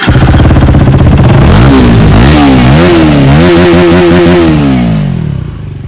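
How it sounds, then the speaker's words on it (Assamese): KTM Duke 250 single-cylinder motorcycle fitted with an Akrapovic full exhaust system revs loudly up close, the engine note rising and falling in repeated throttle blips before settling back toward idle. "এখন এক্ৰাপভিক ফুল সিস্টেম লগাই থৈছে আৰু মাতটো বহুত ধুনিয়া আহে"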